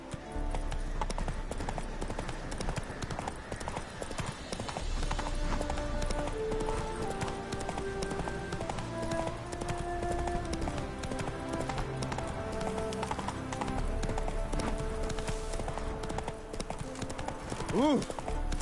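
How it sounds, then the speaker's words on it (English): Roach, Geralt's horse in The Witcher 3, gallops with steady, continuous hoofbeats under a constant wash of game music and ambience, with a short whinny-like sweep near the end. "Run, Roach."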